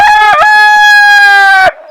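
A rooster crows close by, one loud, drawn-out cock-a-doodle-doo that ends abruptly.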